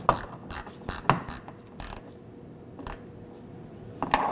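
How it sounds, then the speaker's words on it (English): A T15 Torx screw is snugged down on a Chevrolet Equinox liftgate panel, giving several quick close ratcheting clicks in short bursts with pauses between them. "Now for my T15 Torx screw. Just snug it down."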